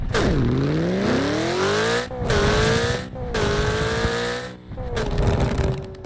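A car engine in the Roblox racing game Midnight Chasers revs hard and climbs through several gear shifts, each pitch rise cut by a short pause. It is loud, close and steady, with no talking.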